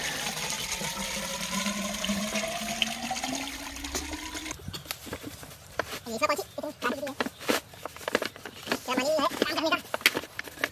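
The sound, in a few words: water running from a pipe into a field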